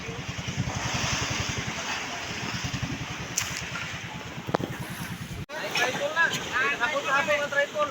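A small 20-horsepower motor boat engine chugs in a rapid regular putter with wind buffeting the microphone, then gives way to splashing water and louder gusts.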